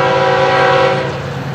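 FEC109 freight train passing in the morning, its horn sounding a loud sustained chord close by over the rumble of the train, fading slightly toward the end.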